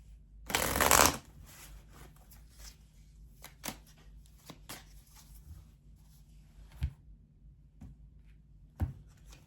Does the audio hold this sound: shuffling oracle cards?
yes